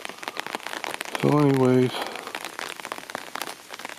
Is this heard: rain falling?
yes